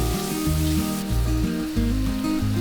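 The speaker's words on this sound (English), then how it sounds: "fry the masala for about 3 to 4 minutes until the masala is nice and thick" Goan crab masala frying thick in a pan, a steady close sizzle that runs throughout beneath tonal background music.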